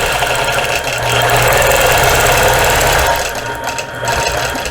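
A sewing machine stitches around a butterfly applique on a quilt, a loud, steady mechanical whirring hum running continuously and close, dipping slightly near the end.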